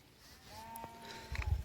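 Sheep and goats of Bakarwal herders bleat at their mountain camp near Srinagar as they return from grazing in the evening. Two short, wavering bleats are heard over faint background noise.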